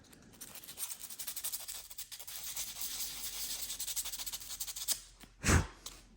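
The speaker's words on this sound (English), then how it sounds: "Just gonna rough up the surfaces." 180-grit sandpaper scrubbed back and forth over 3D-printed plastic makes a steady, close, rhythmic rasp for about five seconds, ending in a brief louder scuff.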